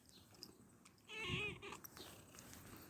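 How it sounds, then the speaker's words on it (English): A house cat gives a single drawn-out meow, close and fairly loud, in an otherwise quiet room. "Oh, Margot, you cat."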